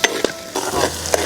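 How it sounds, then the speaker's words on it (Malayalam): Onions hit hot oil already crackling with fenugreek and mustard seeds and curry leaves, for a Kerala fish head curry; a loud sizzle with a few sharp spoon and pan clinks over steady frying. "വേപ്പിലിട്ടതിൻ്റെ പുറകെ നമുക്ക് സവാള ഇടാം"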